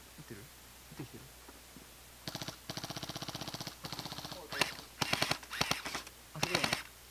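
Airsoft guns fire during a survival game, with rapid automatic bursts and short volleys of sharp clicking shots at mid distance, amid outdoor quiet and occasional faint talk.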